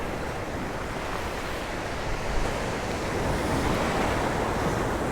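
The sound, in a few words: big waves smashing against rocks, windy Santa Ponsa coast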